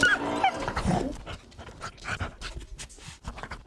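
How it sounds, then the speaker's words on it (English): A dog in the game Ghost Master whimpers and pants at close range, giving several short whining yelps that fade into a busy patter of game sounds. "Oh, poor doggy."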